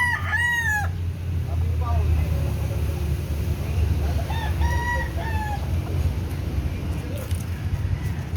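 Young gamecock roosters, or stags, crow in a yard, with a few separate crows rising over steady background noise and a low engine-like hum.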